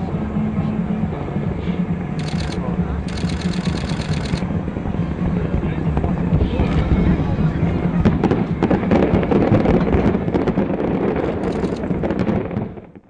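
Fireworks burst over Abidjan at night for the inauguration of a new bridge, a dense, continuous crackle of distant booms and sputters that runs without pause before fading at the end.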